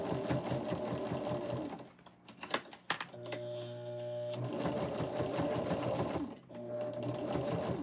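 A sewing machine stitches through fleece folded in half, a thick layer of fabric, running in steady rapid bursts with a brief pause and a couple of clicks midway, close and loud with no talking.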